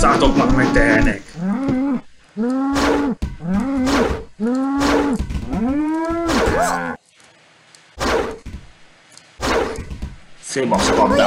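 Cattle in the South Park video game moo repeatedly in loud, drawn-out calls, several overlapping in quick succession with short gaps, some with a rising bellow quality, and a bark-like burst near the end.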